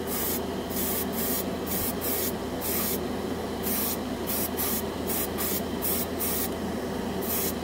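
Airbrush spraying Vallejo Air paint for a final coat on a white spoon, a continuous airy hiss broken by repeated short on-off bursts as the trigger is worked, close and fairly quiet.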